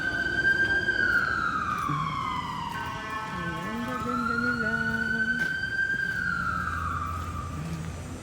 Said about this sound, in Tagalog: Kahit nag-ingay ang ambulance